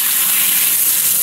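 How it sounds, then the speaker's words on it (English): Cool tap water gushes steadily over chicken livers in a strainer, a loud, even, hissing stream with no pauses. "turn the cool water on"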